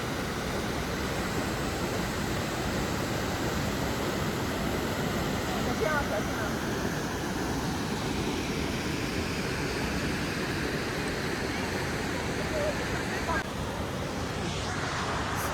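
A mighty waterfall in British Columbia, Canada pours with a dense, unbroken roar, loud and close, a steady wash of noise that barely changes from start to finish.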